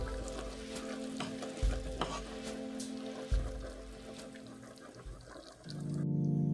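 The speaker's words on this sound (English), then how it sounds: "I'm going to go ahead and give that a good stir. Make sure you mix it thoroughly." Collard greens seasoned with black pepper and red pepper flakes are stirred in a pot, with steady scraping and soft sizzling throughout and a few louder thumps of the spoon, then a fuller simmering hiss at the end.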